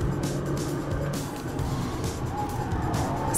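A Nissan GTR driven hard on a race track, its engine roaring steadily close by as the tyres briefly scrub and slide through a corner, with a faint squeal rising over the continuous drone.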